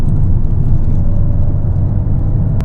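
Honda Civic Type R engine in sport mode, a dense steady low roar heard from inside the cabin, loud and continuous with no voices.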